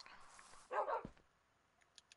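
Dogs give a short, muffled double bark at a distance, followed by a quick yip and then near silence with faint clicks.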